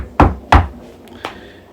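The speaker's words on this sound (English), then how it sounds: "He knocked on the barn door." Three knocks on a barn door, two quick firm thuds close together and then a lighter third rap after a short pause, near and dry with no talk.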